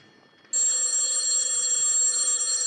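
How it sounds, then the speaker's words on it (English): A telephone bell starts abruptly after a quiet moment and keeps ringing in one continuous, bright, sustained burst. It sounds fairly close and is heard alone. "Telephone's ringing, Danny."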